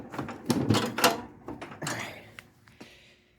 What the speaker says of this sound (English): let me go ahead and put our parking brake on here